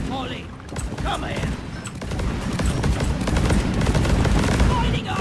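Rapid gunfire crackles almost nonstop through a Deep Rock Galactic cave fight, with a burst of explosion noise in the mix, loud and dense throughout.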